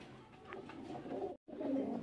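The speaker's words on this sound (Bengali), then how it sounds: "দর্শক এখন দেখতে পাচ্ছেন এখানে এক পেয়ার বন্ডেন কবুতর" Pigeons coo softly and close by in a pigeon market. The low murmuring calls repeat through the short stretch, broken by a brief silent gap.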